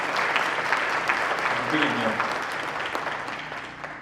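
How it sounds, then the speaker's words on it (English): An audience at an educational summit claps steadily for a panel, a dense burst of applause that slowly tapers off. "let's give the panel a round of applause"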